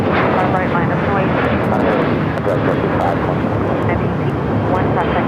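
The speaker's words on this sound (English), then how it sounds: "That flight taken off was United Airlines Flight 1841" A United Airlines jet airliner takes off at Los Angeles International Airport, its engine roar loud and continuous throughout, a dense broadband rumble that holds steady with no pause.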